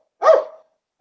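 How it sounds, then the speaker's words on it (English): A dog gives one short, close bark that fades quickly into silence, with no voices around it. "otherwise it'll start my dog off barking"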